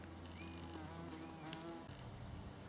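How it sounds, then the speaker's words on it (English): Steady bee buzzing hangs over a quiet outdoor field of oxeye daisies, with a low hum and a few faint bird calls in the background. "Oxeyes everywhere, and as a result, bees, butterflies, etc., pollinators everywhere."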